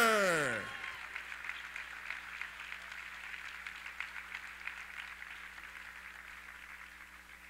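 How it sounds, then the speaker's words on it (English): A crowd at a Carson-Newman basketball senior day ceremony claps for the senior cheerleaders. A short descending electronic sweep opens, then faint, distant applause carries on steadily over a low hum. "Let's give a round of applause for your senior cheerleaders."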